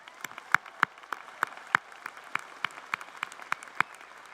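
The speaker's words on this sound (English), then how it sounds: "Let's give them one more round of applause." An audience at a university commencement claps for the national anthem performers, a sparse, fairly faint patter with distinct individual claps spaced irregularly against a quiet hall.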